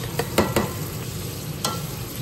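Purple cabbage and shrimp stew being stirred in a pot, a few scraping spoon strokes over a soft bubbling simmer, close and fairly quiet.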